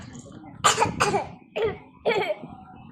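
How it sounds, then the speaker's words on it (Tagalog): Several sharp coughs in a loose sequence, two close together and then two more after short pauses, fairly close and moderately loud. "Oh, nakaubo na siya."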